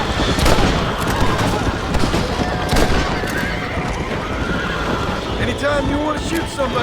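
Horse-drawn wagon rolling in a Western shootout in Red Dead Redemption, hooves clattering steadily and a horse whinnying amid scattered gunfire, with voices shouting over the dense, continuous noise.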